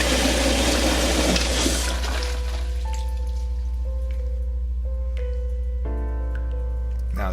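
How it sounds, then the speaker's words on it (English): A toilet in the video game The Cat Lady, plugged with gloves, flushes with a loud rushing gush of water that subsides into an overflowing trickle while low tones of the game's music continue underneath. "Now the toilet's overflowed"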